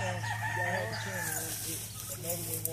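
A rooster crows in a drawn-out cock-a-doodle-doo, with clucking fowl nearby at what sounds like a farmyard with a white turkey, while people talk quietly in the background.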